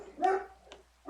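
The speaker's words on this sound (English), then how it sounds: "You hear those dogs?" Dogs barking in the Minecraft video game, a couple of short bark-like bursts in a quiet game scene, moderately close, with no talk over them.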